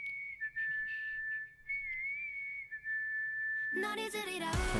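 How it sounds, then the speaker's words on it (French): A whistled melody from a song, a clear single-pitched line held steady with small bends, which then gives way to the rest of the music. "J'adore la mélodie du sifflement."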